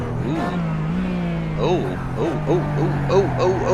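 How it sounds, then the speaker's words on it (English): A RUF race car in the iRacing simulator downshifts under braking at Daytona: a droning engine note is broken by a series of sharp rising-and-falling rev blips as it bounces off the limiter, repeating quickly toward the end. "you could hear he's pretty much hitting the limiter when he downshifts"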